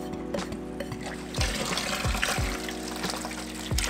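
Water poured out of a container while rinsing aquarium Anubias plants, a steady splashing stream with several brief heavier gushes, close by and alone.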